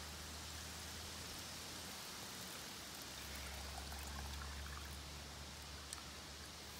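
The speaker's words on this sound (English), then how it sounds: "we're going to take our gallon of clean water" Clean water poured from a gallon container onto staghorn sumac berries in a gallon jug, a steady rushing pour that holds at constant strength throughout, with no talking.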